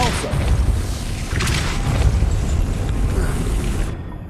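The Depulso spell in Hogwarts Legacy fires with a deep booming whoosh and rumble, loud and sustained for several seconds before cutting off abruptly, with no voices over it.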